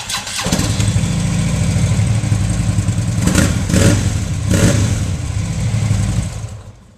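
A 2011 Harley-Davidson Electra Glide Ultra Limited motorcycle starts up close by, a short starter crank catching into a loud, throbbing V-twin idle with a few blips of throttle before fading out.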